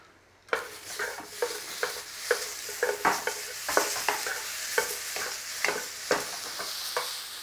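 Chicken bhuna curry, fairly dry, being stirred in a scorching hot pan: constant loud sizzling with a regular rhythm of spatula scrapes, starting abruptly and continuing without voices.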